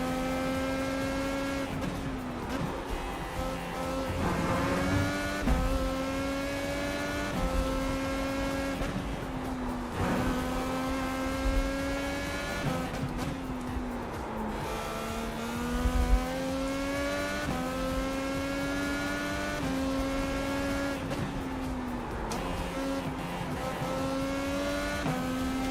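A race car in iRacing / LMU pulls through the gears on track, its engine rising in pitch again and again with short breaks at each shift. It is loud and steady on its own, with no talk.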